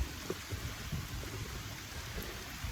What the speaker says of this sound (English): The rain is irrelevant.